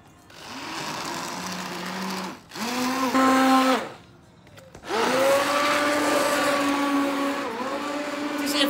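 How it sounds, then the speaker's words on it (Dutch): A solar-powered blender whirs through pumpkin soup with fresh herbs on a beach, its motor whine running in three loud bursts, dropping and rising in pitch as it spins up and slows. "Maar we zetten toch even de blender erop."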